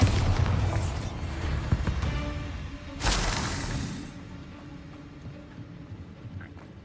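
A muffled spell explosion from Bombarda in Hogwarts Legacy lands as a single boom and crash partway through, over a busy rumbling background of combat noise, fading afterward.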